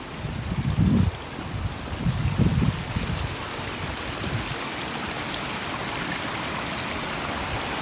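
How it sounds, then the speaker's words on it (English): Water flowing in a stream beside a nature trail at Belton Dam, a steady broadband rush that continues throughout, with a few brief louder low bursts near the start. "Oh, we've got water."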